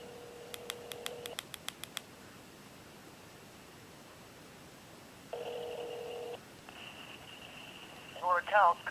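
A 2005 Nokia Shorty 2115i on Virgin Mobile dials 611, a rapid string of keypad tones followed by a network connection tone and a recorded prompt, with faint background hiss and brief digital chirps at the end.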